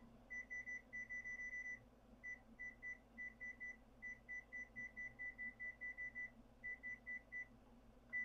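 A kitchen timer gives rapid clusters of short, high electronic beeps in quick bursts over several seconds, faint against a quiet kitchen hum.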